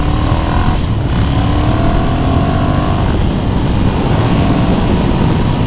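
Ducati Monster 1100 Evo V-twin motorcycle engine running at a standstill, a loud, steady close-up drone that holds at an even level throughout.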